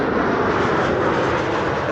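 An airliner in AC Milan special livery passes at Amsterdam Schiphol Airport, a loud, steady, close engine roar filling the whole moment without a break.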